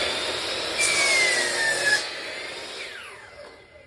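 A saw cuts the end off a wood fence plank, a loud close rasping cut lasting a couple of seconds before the sound trails away, with no voices.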